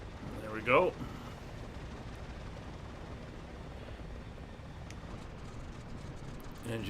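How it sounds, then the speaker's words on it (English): Douglas DC-3 piston engine running in a video game flight simulator, a steady, even droning roar that holds at constant loudness throughout. "Engine is up and running."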